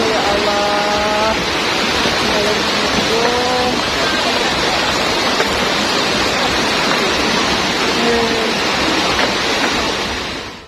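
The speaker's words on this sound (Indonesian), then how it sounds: "Hujan deras yang terjadi di Kabupaten Lebong, Provinsi Bengkulu pada Rabu sore, 21 April, menyebabkan banjir bandang dan tanah longsor" Heavy rain pours steadily during a flash flood in Lebong, Bengkulu, a loud, dense wash of water noise that continues unbroken throughout, with a few faint voices and tonal calls over it.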